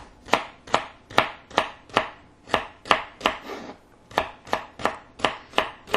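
A knife chops organic celery on a cutting board in a kitchen, fourteen or so crisp, evenly spaced strokes, close and loud, with no talking.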